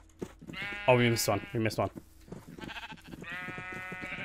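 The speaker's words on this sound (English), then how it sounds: "It's a horde of sheep." Sheep bleating in Minecraft hardcore mode amid a large flock, several harmonic bleats in quick succession, loud and close, mixed with a person talking over them.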